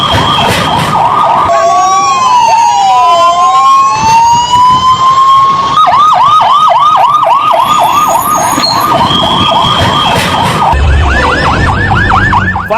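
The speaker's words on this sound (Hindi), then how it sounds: "देखिए फायर ब्रिगेड की गाड़ियां मौके पर पहुंचने लगी" Several fire engine sirens wail together at a plane crash fire, rising and falling in overlapping sweeps, loud and continuous amid heavy traffic noise.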